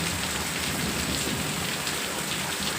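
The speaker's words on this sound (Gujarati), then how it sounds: "તો મિત્રો, અમારા ગામમાં આજે બહુ વરસાદ ચાલુ છે." Heavy rain falling steadily in a village, a dense, continuous hiss of drops on surfaces, loud and close, with no voices over it.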